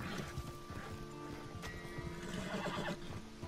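Horse neighing and whinnying with clip-clopping hooves in the Western video game Red Dead Redemption 2, a continuous mix of close calls and hoofbeats over a busy game soundscape.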